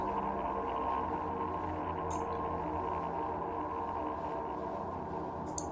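A steady, noisy synthesized drone with a thick buzzing hum, unchanging and continuous throughout, with a couple of faint high clicks.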